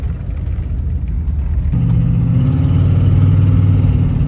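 A 1955 Chevrolet's exhaust drones steadily with low engine rumble, rising slightly in pitch and loudness midway as the car accelerates along the highway.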